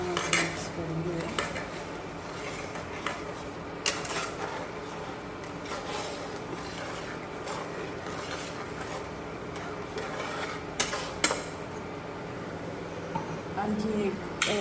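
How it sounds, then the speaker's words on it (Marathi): A spoon scrapes and clinks against a pot while ridge gourd curry with black masala and a little water is stirred, giving steady close metallic knocks and scrapes over a constant kitchen background. "छान असं मिक्स करून घेऊया."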